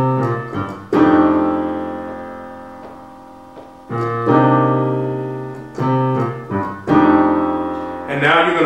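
Sustained piano chords ring out in a slow progression, each struck chord swelling then decaying before the next, with six-nine, seventh and third voicings from an R&B ballad, played alone with no talking.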